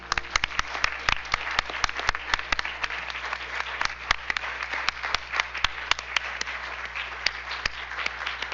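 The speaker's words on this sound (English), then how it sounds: "let's give them a round of applause" Audience applause at a school district board business meeting honoring an Independence High School member: scattered, fairly sparse claps with distinct sharp individual hits over a steady room hum, moderately close and continuous throughout.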